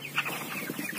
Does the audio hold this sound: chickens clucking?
yes